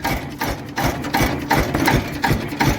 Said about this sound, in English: If you're wondering what that metallic rattle is, that's the straps on these fuel tanks.